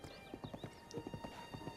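Horse hooves clip-clopping in The Legend of Zelda: Breath of the Wild, a steady rhythmic trot of close, moderately loud hoofbeats on a road, with occasional soft whinnies and faint game music in the background.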